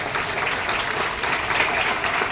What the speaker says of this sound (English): please again give yourselves a very, very big round of applause